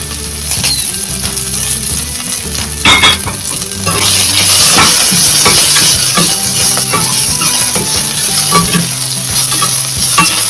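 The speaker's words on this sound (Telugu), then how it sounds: "సో నెక్స్ట్ ఇందులో ఆనియన్స్ యాడ్ చేసుకుందాము" Onions fry in hot oil inside a pressure cooker with green chilli, a dense close sizzle under constant metallic scraping and clinking of a spoon against the pot, growing louder partway through, no voices.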